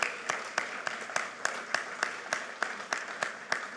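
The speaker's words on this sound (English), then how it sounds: "Give them a big round of applause." Applause for construction workers at a presidential event, steady clapping dominated by a few sharp, evenly spaced claps over a softer crowd patter.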